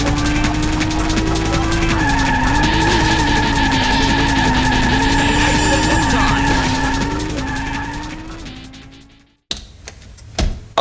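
Racing engines roar steadily alongside long tyre squeals and skids in the arcade racing video game OutRun 2019, loud and continuous before fading out, with a brief burst of other game sound at the end.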